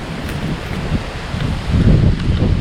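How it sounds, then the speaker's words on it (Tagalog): Steady outdoor wind in Batangas blowing across the microphone, a constant rough rumble with gusty swells, no talking. "mahangin ngayon mga kabosing"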